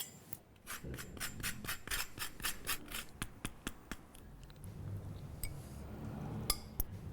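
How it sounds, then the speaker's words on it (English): Lemon rubbed over a fine rasp zester for a Greek salad dressing, a fast series of short scraping strokes, close and crisp, slowing into a few lighter scrapes and a small metallic clink near the end. "I like to add a little lemon zest to this."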